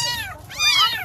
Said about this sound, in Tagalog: Ito na yung pusa.